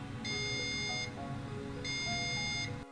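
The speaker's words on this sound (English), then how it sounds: "The LED display shows E1 and the machine alarms." Two bursts of a high electronic beeping alarm from a hot towel dispenser signalling empty water, each lasting about a second, separated by a short pause, over a steady low machine hum.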